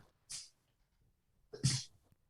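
Two sharp, close sneezes about a second apart, the second one fuller and louder, with quiet between them.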